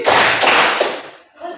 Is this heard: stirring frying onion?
no